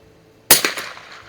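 A single sharp crack from an 1896 Schmidt Rubin target rifle firing .22 short at a range, close and loud, with a brief ringing echo fading after the shot.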